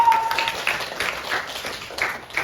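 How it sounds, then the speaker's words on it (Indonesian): A class in a chemistry lesson on atomic structure applauds. Scattered clapping runs steadily through the whole clip at moderate level, after a brief tone near the start. "Oke, tepuk tangan dulu."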